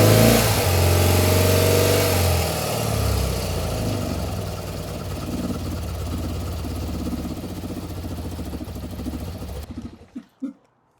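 A BMW Airhead motorcycle engine idles just below 1,000 rpm with the choke a quarter on, a low, uneven rumble that dips slightly now and then, before cutting out abruptly near the end.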